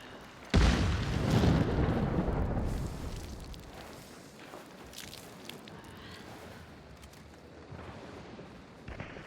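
A shotgun blast in a video game goes off as a loud, sudden boom, then a long decaying rumble and softer game noises, with a smaller thump near the end.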